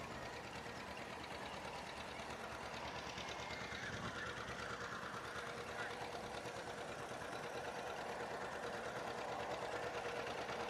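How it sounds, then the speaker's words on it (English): Tractors drive by in a small-town grand parade at a corn carnival, giving a steady chugging engine rumble with a knocking rhythm that holds at constant loudness throughout. No one speaks over it. "And we've got some tractors."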